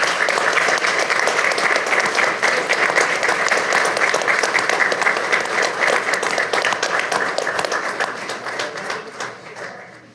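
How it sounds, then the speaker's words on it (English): A city council meeting audience gives a sustained round of applause, dense and even clapping that carries on at full strength before it begins to thin out near the end. "Let's give them a big round of applause."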